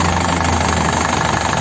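A 2011 Isuzu Panther LS Turbo diesel engine idles steadily at close range, a continuous knocking rumble with no talk over it.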